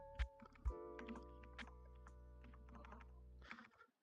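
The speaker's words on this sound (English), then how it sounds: "I'm typing exactly what the snippets are" Brisk keystrokes on a computer keyboard, a couple of sharp heavier taps at the start followed by a steady run of light, close clicks in a quiet room.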